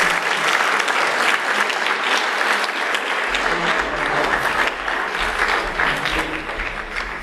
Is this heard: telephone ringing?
no